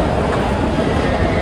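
A Delhi metro train running near Kashmiri Gate station, giving a steady, loud broadband rumble and rolling roar with no break across the short stretch.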